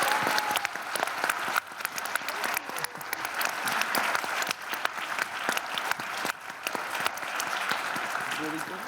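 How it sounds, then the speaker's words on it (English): Warm audience applause for panelists at an art and justice evening at RISD, dense sustained clapping from a large crowd, loud and continuous throughout, with some voices mixed in beneath the clapping. "Can we give our panelists a warm round of applause?"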